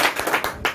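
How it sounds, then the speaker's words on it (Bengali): Audience hands clapping at a business opportunity meeting, a quick, dense burst of applause lasting under a second with no talking over it. "সবার জন্য আমি আমার মন থেকে হাততালি দিচ্ছি"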